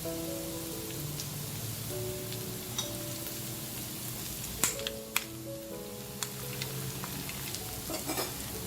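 Chili paste fries in a pan with a steady close sizzle and crackle, occasional sharp clinks of a utensil stirring against the pan, no talking.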